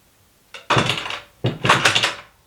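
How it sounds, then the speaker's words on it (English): Cupboard doors in a work van, set up as a mobile workshop, open and shut twice: each time a sharp thunk and then a rattling, resonant clatter, loud and close, with a short gap between them. "Really didn't need to open those, because obviously you folks know that those are just cupboards and cupboard doors."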